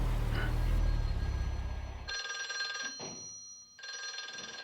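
An old-style telephone bell rings in The Exorcist, loud repeated ring bursts after a dense rumbling movie scene, with brief gaps between rings.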